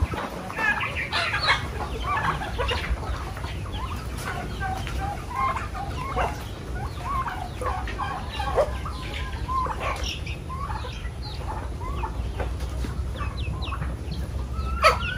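Native and heritage chickens clucking steadily in a farmyard, several birds calling at once with scattered short clucks and a constant low background hum.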